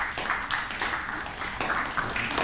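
An audience at a TED talk claps in unison to imitate the sound of falling snow, producing a soft, steady patter of many hands that swells and dips over a few seconds with no voices.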